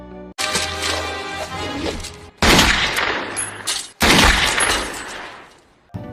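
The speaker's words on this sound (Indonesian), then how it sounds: "Mark akan membunuh John dengan pistol, tapi Trish membunuhnya tepat waktunya." Loud bursts of gunfire erupt in two or three sharp volleys, rapid and echoing, with a brief pause between each barrage.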